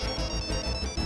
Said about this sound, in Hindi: हमको लग रहा है फोन की घंटी बजी